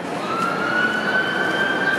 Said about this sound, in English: And now we hear more sirens.